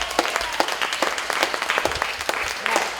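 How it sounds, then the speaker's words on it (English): An audience at a beauty pageant training seminar claps with loud, close, sharp individual hand claps in an uneven steady patter. "Let's give her a round of applause."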